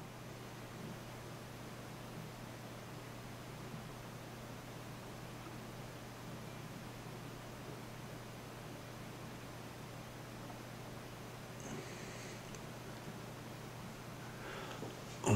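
Airbrush spraying light gray paint through a stencil, a soft, steady hiss of air held evenly throughout at low level over a faint constant hum.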